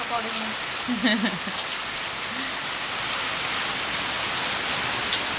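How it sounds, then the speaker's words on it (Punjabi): Steady heavy rain with strong wind roars across the whole clip, dense and close, with a brief voice murmuring near the start. "ਬਹੁਤ ਤੇਜ਼ ਮੀਂਹ ਪੈ ਰਿਹਾ ਅੱਜ"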